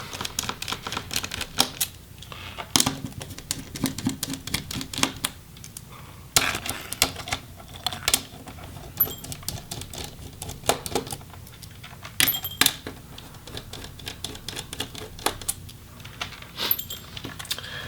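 Screws being removed from the screen and hinges of an MSI Titan Pro GT73VR 6RF laptop: small metallic clicks, taps and rattles of a screwdriver and loose screws, close up and intermittent, with no talking.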